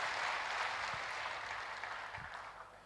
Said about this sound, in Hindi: मैं उनके लिए जोरदार तालियां प्लीज़